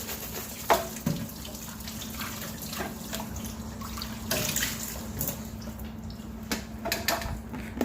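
Tap water runs steadily into a kitchen sink while Ninja Foodi parts are washed, with small splashes and clinks of the parts now and then, and no talking.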